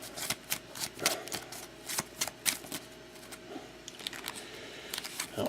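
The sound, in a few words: shuffling cards for box break team draw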